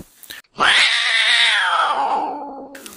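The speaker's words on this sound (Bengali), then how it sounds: "পেটা বিড়াল দেখি আমাকে রাগ দেখাচ্ছে" A cartoon cat lets out one long, drawn-out angry yowl, rising and then slowly trailing off, loud and close.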